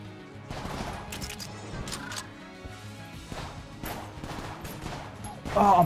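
Rapid gunfire and crashing impacts fill a chaotic Enter the Gungeon battle as an enemy sprays bullets, dense overlapping shots at moderate level with a louder burst at the end.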